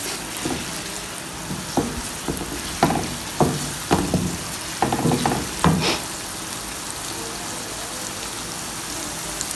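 Onions fry to light brown in a small amount of oil, a constant dense sizzle broken by about a dozen sharp scraping stirs that come irregularly through the first six seconds, then just the steady hiss.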